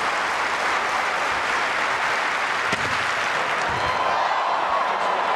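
Large stadium crowd at a Commonwealth Games long jump competition applauding steadily and densely, a continuous wash of clapping and cheering that holds at a loud, even level throughout.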